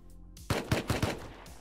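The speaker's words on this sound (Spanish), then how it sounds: "Me dispara." Several quick gunshots from the Rust video game, a rapid burst of four sharp, loud cracks in close succession after a brief lull.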